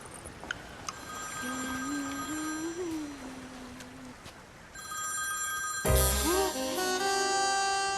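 A telephone rings in clear repeated bursts, first moderately loud, then joined by a brighter, louder jingle near the end, against faint background sound with no spoken words.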